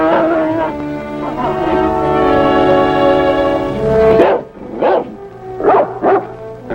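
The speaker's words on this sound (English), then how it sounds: "The howling dog started it all." A dog howls in a long, loud, sustained wail, then breaks into several sharp barks and yips close by, in an old Western setting.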